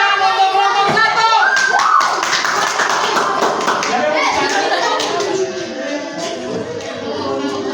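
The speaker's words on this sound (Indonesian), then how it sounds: "Kasih tepuk tangan untuk kelompok 1." Classroom audience clapping for a student presentation group, a dense burst of hand claps that fades after a few seconds, with voices and children's chatter mixed in.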